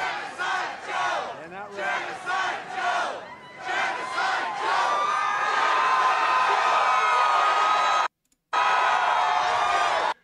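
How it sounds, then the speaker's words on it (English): Rally crowd screaming and chanting in loud, rhythmic bursts, swelling into a sustained roar of massed voices that cuts off briefly near the end before resuming. "These are MAGATs screaming Genocide Joe"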